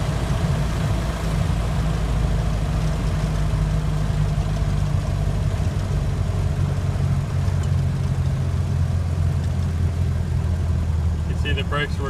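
A 1928 Ford Model A Tudor sedan engine runs steadily while driving at around 35 to 40 mph, a continuous low drone with road and wind noise that stays even throughout.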